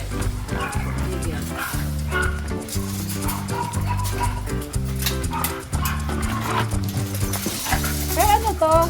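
Bully breed dogs at a kennel compound bark and yip repeatedly and loudly, mixed with background music and occasional voices.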